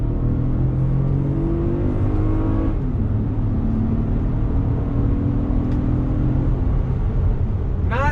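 A 2019 Toyota Highlander's engine drones and builds under throttle from inside the cabin, a steady loud hum with rising harmonic tones, and no voices over it.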